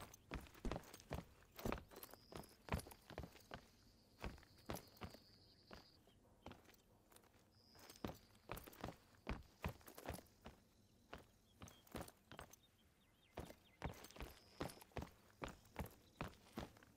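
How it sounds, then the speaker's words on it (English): Steady footsteps crunching along in theHunter: Call of the Wild video game, a long series of regular close steps with faint birds or insects chirping in the background. "Do I hear footsteps?"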